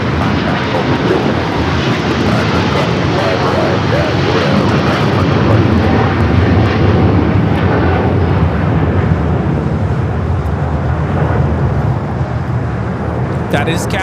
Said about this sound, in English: That is Cathay Pacific 885 taking off to Hong Kong on the 777-300ER